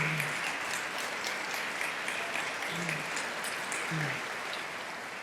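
Applause from the audience at a 2024 State of the State address, a steady wash of many hands clapping heard from some distance, even and continuous with no talk over it.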